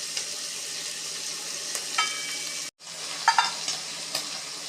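Onions sauté in ghee for prawn biryani with a steady close sizzle. Stirring makes a few scraping clinks, and the sound cuts out for a moment before carrying on.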